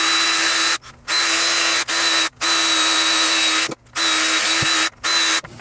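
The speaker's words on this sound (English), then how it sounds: "I have it all drilled out, and this will make putting the brass in much, much easier" A power drill whines into the plastic of a Nerf Rebelle Messenger blaster in loud, steady bursts, stopping and restarting about five times with brief silent pauses between runs.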